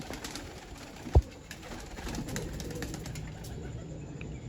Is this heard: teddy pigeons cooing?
yes